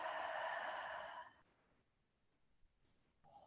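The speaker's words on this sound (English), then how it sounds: "Exhale the breath out." A slow, breathy exhale during a guided breathing exercise, a soft airy rush lasting about a second and a half before fading into near silence, close and quiet, with no talking.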